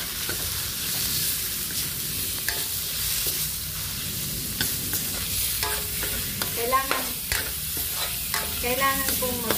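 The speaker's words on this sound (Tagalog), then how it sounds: "Nag-brown na ang bawang. Isunod ko ng sibuyas. Sunod ko na ang giniling." Ground meat sautés in a pan with browned garlic and onion for a homemade dish, a steady close sizzle broken by repeated scraping stirs of a utensil against the pan.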